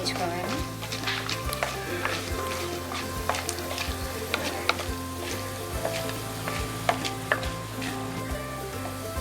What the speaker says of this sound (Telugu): కొంచెం శనగపప్పు, కొన్ని పల్లీలు. ఓకే, కొంచెం ఎరుపు కలర్ వచ్చేంత వరకు వేయించుకోవాలి.